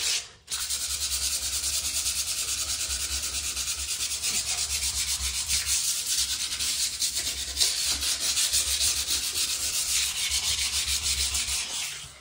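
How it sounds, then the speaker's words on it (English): Steady, continuous hand sanding on a bathtub surface being prepped for reglazing, a loud close abrasive rub that keeps up without pause for the whole stretch. "I want this nice and sanded in there"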